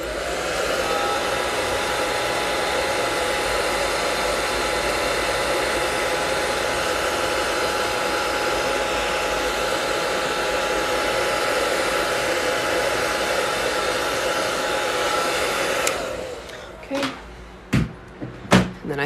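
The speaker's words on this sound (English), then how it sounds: "I need this to be dry, though, so I'm going to hit it with my hairdryer real quick." A hairdryer blows steadily and loudly for about sixteen seconds to dry paint on an autumn-trees canvas, then switches off, followed by a few sharp knocks and clatters.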